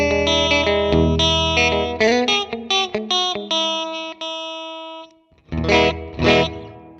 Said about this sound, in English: That's the 57 Twin with the Hall maxed out.